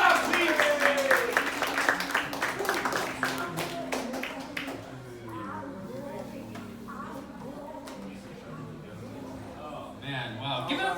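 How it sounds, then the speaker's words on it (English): An audience at a show claps in a lively burst of applause that tapers off after a few seconds, followed by someone talking. "Big round of applause, please."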